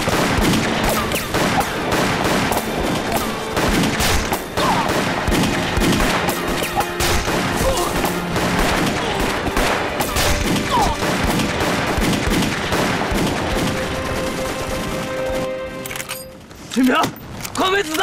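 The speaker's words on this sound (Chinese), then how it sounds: "快没子弹了，清明！" Dense, continuous gunfire from a battle scene in a war film about the Japanese invasion of China: rapid machine-gun bursts and rifle shots layered into a loud fusillade, with voices mixed in and a brief boom near the end.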